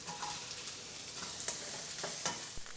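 Yellow onion and garlic sautéing in a pan for chicken curry, a soft continuous sizzle with scattered crackles and occasional stirring scrapes, quiet and close.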